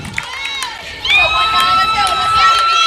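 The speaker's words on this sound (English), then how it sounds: "Crowd getting a little more vocal too." A crowd at a high school softball game cheers and shouts, swelling louder after the first second and staying loud, with individual voices rising above the general roar.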